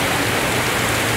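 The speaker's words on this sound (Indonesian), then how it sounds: "Hujan deras coy." Heavy rain pouring down in a dense, steady hiss with no gaps, loud and close, with no voices.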